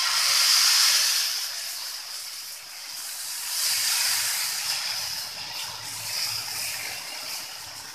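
Onion and carrot uttapam batter sizzles on an oiled iron dosa pan, a continuous soft hiss that swells and eases, close and steady with no talk.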